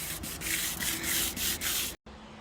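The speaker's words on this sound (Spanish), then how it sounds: "Una buena lijada" Sanding across damaged van roof bodywork, a steady abrasive rubbing in rhythmic strokes, loud and close, with a brief break near the end before it resumes.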